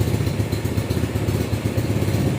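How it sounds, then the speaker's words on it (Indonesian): A cold Honda Jupiter motorcycle engine, a restored Jupiter 5LM, runs with a loud, close, rough clattering idle throughout. "Coba kita hidupin ya. Motornya dingin ya."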